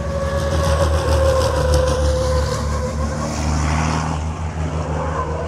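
A 1200 hp Apollo Tyres race truck roars past on a circuit during a fast qualifying lap, its heavy engine a loud, continuous rumble and drone that holds steady throughout with no voices.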